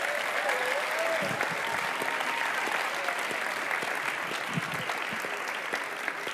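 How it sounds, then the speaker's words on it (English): Students in a school gathering at Boston Latin Academy applaud together, a dense, steady wash of clapping that holds at an even level throughout with a faint murmur of voices underneath. "So give yourselves a round of applause."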